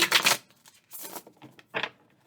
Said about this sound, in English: Oh, actually catching the shuffle on the video.